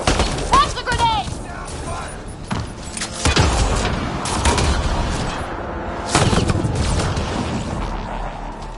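In the Mass Effect: Andromeda video game, a grenade is launched and bursts: two sharp, loud blasts with rumbling tails amid dense combat noise, under voices talking over it.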